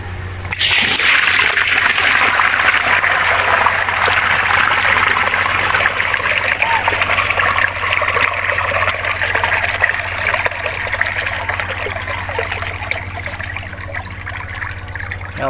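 Water gushes out of an opened drain on a DIY bucket filter, a loud continuous splashing pour that runs steadily for many seconds and tapers only slightly toward the end.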